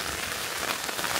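Rain patters steadily on a tent at night in the Lake District, a dense close hiss of drops with scattered louder drips, no voices.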